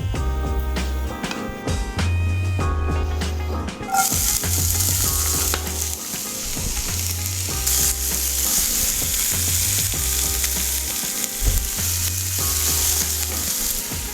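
Vegetables frying in oil in a pan give a steady, bright sizzle that grows louder partway through, with low thumps from the stove or pan repeating under it and no talk.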